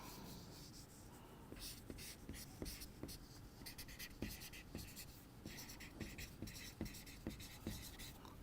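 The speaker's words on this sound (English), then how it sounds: "So, I am going to like write our first draft." Pen scratching across paper while drafting by hand, faint close strokes and scribbles in irregular bursts over a quiet room hiss, with soft breathing.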